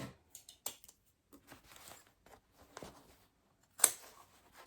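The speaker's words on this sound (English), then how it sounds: "And we'll cut now." Scissors cutting fabric for a stitched lunch box, a series of close, quiet snips and crisp slicing strokes in irregular rhythm, with near-silence between cuts and one sharper snip near the end.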